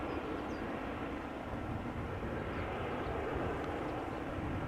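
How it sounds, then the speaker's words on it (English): Airplane at Amsterdam Schiphol Airport, a steady broadband jet roar heard at moderate distance, fairly quiet and continuous with no talking. "They really are a lot quieter than those other planes when they work."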